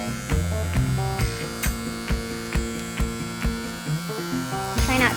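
An electric hair clipper trims a man's hair around the ear with a constant close buzzing hum, pulsing in short rhythmic surges as the blade works along the edge.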